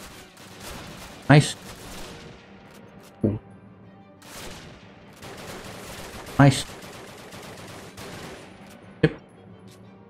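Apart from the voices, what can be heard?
sniper rifle gunfire in Call of Duty video game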